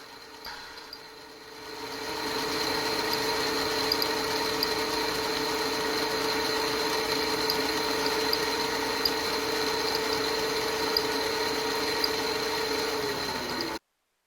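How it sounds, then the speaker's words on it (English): A drill press running at its slowest speed, 520 RPM, spins up from quiet into a steady, even whine with a faint undertone of chatter, then cuts off abruptly at the end. "Now here's at a normal drill press, running at its slowest speed."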